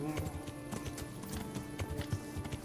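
Horse hooves clip-clop steadily in the medieval video game Kingdom Come: Deliverance, a brisk even rhythm of close, loud hoofbeats over a faint background hum, with no talking.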